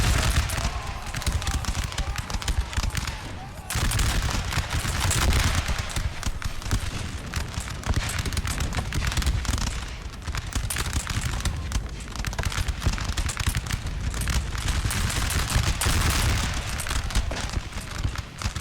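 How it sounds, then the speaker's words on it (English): Musket rifle volleys in the Napoleon Total War battle game, a dense, continuous roar of crackling massed fire and booming over a rumbling low din, with a short break before the shooting resumes without letup. "Okay, 4 went down that single volley."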